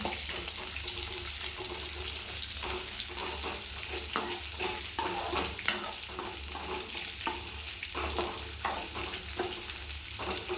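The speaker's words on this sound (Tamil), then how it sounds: "பிரண்டை இதோடு சேர்த்துக்கலாம். நல்லா கலந்து விட்டுக்கலாம்." Pirandai (adamant creeper) fries in a pan with a continuous crackling sizzle while a spoon stirs repeatedly, giving a busy, rhythmic scraping texture over the full length.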